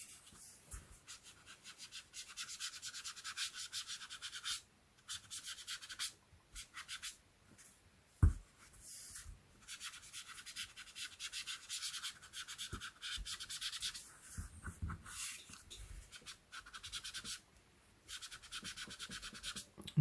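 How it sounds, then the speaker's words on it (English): Rubbing on a handmade stamped Halloween card with a spooky cat and moon, to erase stray lines: quiet, close scratchy strokes in irregular bursts with brief pauses, and no talking. "I'm just trying to rub out some of the lines."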